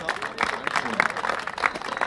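A crowd at an outdoor political rally in Braunschweig gives a brief scattered round of applause, moderately distant, with a voice talking over the clapping.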